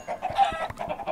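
Chickens in a video game cluck in quick, overlapping bursts, fairly close and steady, with no voices.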